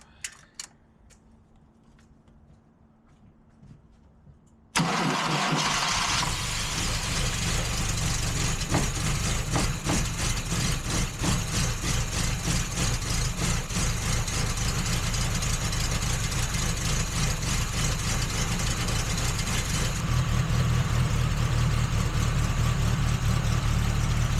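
A 1972 Fiat 850 Sport Spider with fuel problems starts after near silence and settles into a loud, steady, slightly lumpy idle, with the engine rising a little toward the end.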